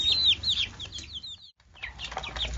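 Young chicks in a brooder, a dense chorus of high, rapid peeping chirps up close, briefly pausing before resuming, with light rustling movement.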